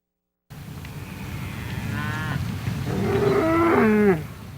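Cattle on a working ranch lowing in a few drawn-out moos that rise and fall in pitch, the calls overlapping near the end over a steady low outdoor rumble.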